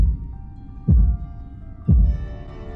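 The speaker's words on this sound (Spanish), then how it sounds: "y te da unos latidos." Heartbeat sound effect from the video game Tormented Souls: two deep, thudding beats about a second apart, loud and close over a faint musical drone, with no talk.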